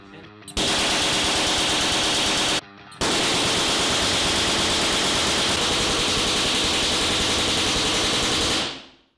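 A homemade pulsed detonation jet engine mounted on a rail fires as a loud, harsh rapid rattle of detonations, running nearly continuously with a brief pause early on before cutting off.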